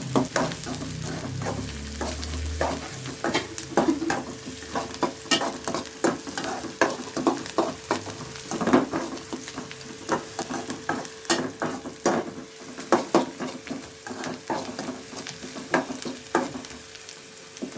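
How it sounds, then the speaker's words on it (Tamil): Onions and garlic sauté in a pan for chicken liver fry, producing a close crackling sizzle punctuated by frequent rhythmic spatula scrapes and taps, loud and uninterrupted by talk. "வெங்காயம் நல்லா வதங்கிக்கிட்டு இருக்கு"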